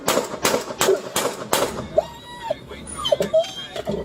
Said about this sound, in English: Shots ring out almost immediately after the officer's car is struck